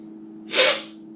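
One sharp, breathy sniff through a stuffed-up nose bursts out mid-clip, close and brief against a low background hum.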